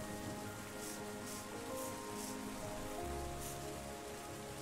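Steady rainfall in the video game Terra Nil, an even hiss of drops on a surface with a low rumble toward the end, continuous and unaccompanied by talk.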